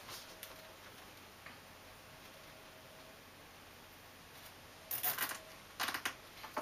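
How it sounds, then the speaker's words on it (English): A plastic zip tie on a bike phone mount is pulled tight through its ratchet, giving two short bursts of fast ratcheting clicks near the end, close but faint, after quiet ticking. "I'm going to feed this zip tie through the top piece here."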